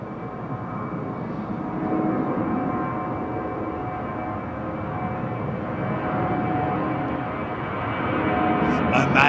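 A Boeing 767 jet departs runway 09R at London Heathrow, its engines a steady broad roar that swells gently and holds throughout, heard from a distance with a faint hiss near the end.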